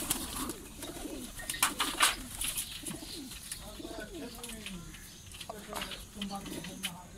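Pigeons coo softly in a low, rolling rhythm, with scattered wing flaps and rustling, and faint voices talking in the background.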